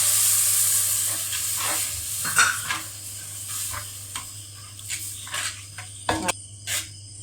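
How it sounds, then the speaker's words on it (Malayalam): Water is poured into a pan of sizzling spice masala with cumin powder for a Kottayam-style mackerel curry, giving a steady loud fry hiss with stirring scrapes and clicks throughout. "ഇതിലേക്ക് അല്പം വെള്ളം ഒഴിച്ചു കൊടുക്കാം."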